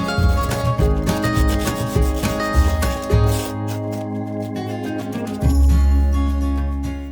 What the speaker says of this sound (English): Remember to sand them down a little bit once you're finished with the sawing.